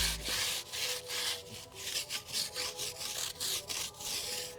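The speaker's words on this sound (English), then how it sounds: "I'm going to use something called the tire scrub brush to scrub the tires" A stiff tire scrub brush works over off-road tires, giving continuous close, loud bristly scrubbing in rhythmic back-and-forth strokes, with no talk.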